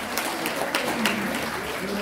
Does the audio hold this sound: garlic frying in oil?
no